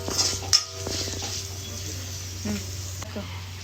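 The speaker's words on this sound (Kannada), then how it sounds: "ಉಪ್ಪು ಹಾಕ್ಕೊಂಡು ಚೆನ್ನಾಗಿ ಮಿಕ್ಸ್ ಮಾಡ್ಕೊಳ್ಳೋಣ" A spoon scrapes and clinks against a pan as cooked rice is mixed with salt and pepper powder for a festival dish, short close strokes over a steady low kitchen hum.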